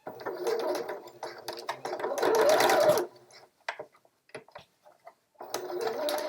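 Sewing machine stitching a 1 cm seam up a scrubs side vent opening, starting with a backstitch; bursts of rapid mechanical needle chatter, loudest in a sustained run near the middle, with short pauses and quieter ticks between.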